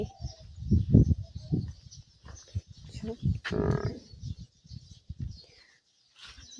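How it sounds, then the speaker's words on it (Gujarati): A buffalo lows several times in deep, drawn-out calls, close by, with quiet gaps between them and faint chirping in the background. "જો અહીંયા અમારી ભેંસ છે"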